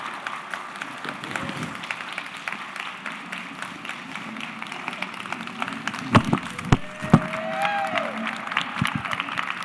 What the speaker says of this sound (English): Can we give Beth another applause for what she's doing?